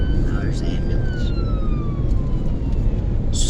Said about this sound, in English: Now there's the ambulance.